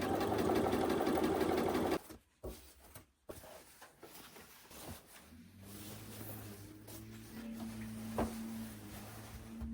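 Sewing machine stitching quilt fabric strips for a churn dash quilt, a fast steady mechanical whir for two seconds close by, then stopping into quiet handling and faint room hum.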